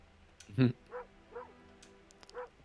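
A cartoonish dog in the video game Moonlighter gives a short series of yips and barks: one louder opening bark followed by three softer, evenly spaced yaps, fairly close and clear.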